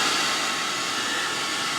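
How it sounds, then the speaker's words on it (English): A hairdryer runs steadily at close range, a constant airy whir with no pauses, used outdoors on a PVC pipe in cold, wet weather. "so I'm going to take my hairdryer"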